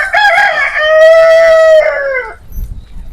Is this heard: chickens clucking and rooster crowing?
yes